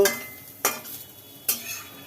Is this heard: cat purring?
no